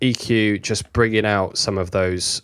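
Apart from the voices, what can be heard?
No distinct noise like a dog, phone or traffic.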